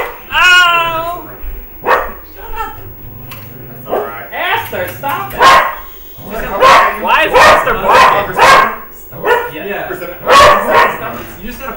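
A dog barks repeatedly in short, loud bursts close by, mixed with yips and whimpers, while people shout and talk over it.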